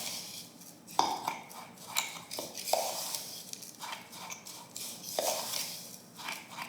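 Ginger snap crumbs being stirred with melted butter in a bowl for a cheesecake crust, giving light scraping and clinking of a utensil against the bowl in irregular strokes, close and fairly quiet.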